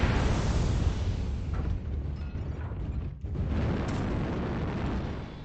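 Artillery strike explosions in MechWarrior Online, a dense, continuous roaring rumble of blasts that stays loud throughout, with a brief dip partway before the barrage swells again.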